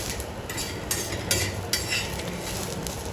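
Oil sizzles in a pan while a traditional Khandeshi besan dish fries, with a continuous close hiss and several light scrapes of stirring at irregular intervals.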